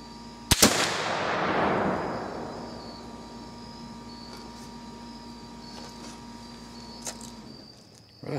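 A single sharp muzzleloader rifle shot cracks loudly outdoors, followed by a long booming echo that fades slowly over several seconds, with insects chirping faintly in the background.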